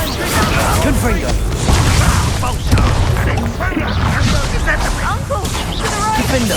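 Confringo blasting-spell explosions and combat effects in Hogwarts Legacy, with dense booms, crashes and whooshes in a busy battle mix, with voices shouting over them.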